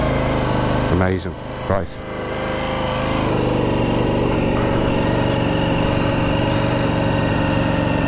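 A Ducati Panigale V4 S sports bike fires up and settles into a loud, steady idle close by, the engine rising briefly as it catches before holding an even rumble, with a short spoken remark over the start.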